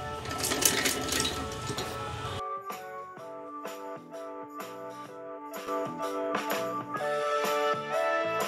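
A sewing machine whirs briefly and steadily, stitching a frill onto a girl's blouse sleeve, then stops as music takes over.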